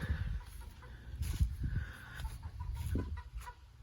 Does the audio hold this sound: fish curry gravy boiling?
no